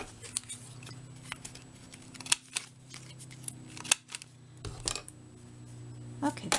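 Card paper is cut with a trimmer or scissors in a quiet room: a few sharp, isolated snips and clicks spread over several seconds, faint and close, with low background hum.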